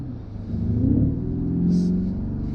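A Lamborghini Centenario Roadster engine at idle, a deep close rumble that lifts in a gentle rev before settling back to a steady throb.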